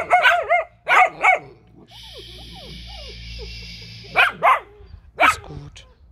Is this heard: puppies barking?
yes